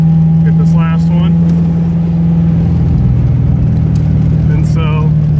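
A car engine with an ignition fault revs in the rain while the ignition keeps firing without cutting out, a steady mid-pitched drone with a few brief rising surges.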